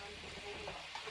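Sausages brown in a pan for a homemade sauce, giving a steady, dense sizzle and crackle that is quiet and continuous for about a second.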